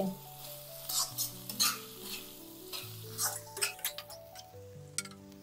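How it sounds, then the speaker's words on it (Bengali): Eggplant, tomato and chopped coriander sizzle in a frying pan while a spoon stirs and scrapes in quick strokes. Soft background music plays beneath the close cooking sounds. "অ্যাড করে দেব কুচনো ধনেপাতা। ভালো করে নাড়িয়ে চাড়িয়ে নেব।"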